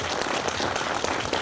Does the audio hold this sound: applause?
yes